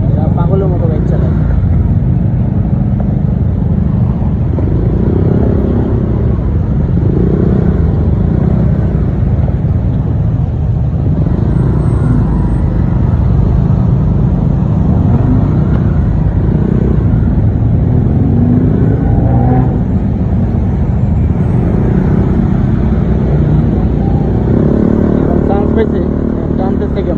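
Motorbikes and scooters fill a Thai road with a continuous low engine rumble and passing drone, some revving audible, while someone talks over the traffic throughout.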